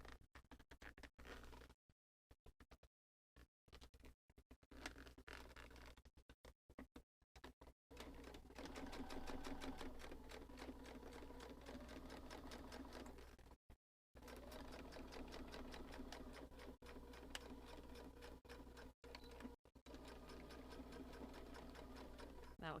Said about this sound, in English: here we do want to go back and forth at the corners to lock our stitches